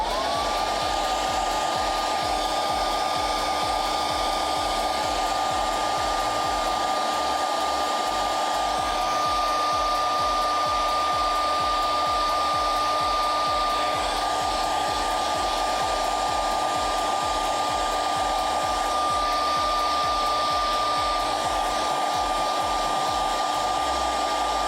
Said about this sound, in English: just like before, we'll get the hairdryer.